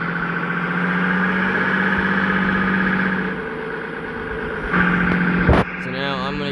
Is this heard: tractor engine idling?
yes